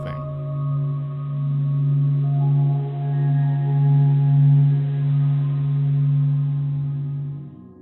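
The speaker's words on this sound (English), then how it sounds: "The sounds you heard in this piece were sonified by the Stanford Experimental Physics Lab." Sonified solar oscillation data from the SOHO observatory, a steady low droning hum with faint higher harmonics that swells gently and holds for several seconds before cutting off.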